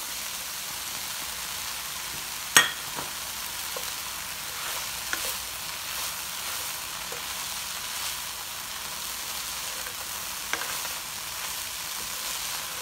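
Onions frying in a pan until soft and translucent, giving a steady soft hiss like light rain, broken by a few faint clicks and one sharper tap.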